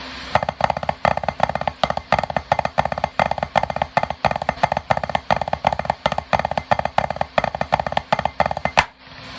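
Rapid, steady drum strokes played with sticks on a snare, repeating a tight two-bar rudiment pattern with crisp accents, loud and close, no voices.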